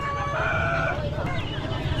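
Chickens at a busy Vietnamese morning market: clucking and crowing fowl heard amid a dense, constant market hubbub, with voices in the crowd.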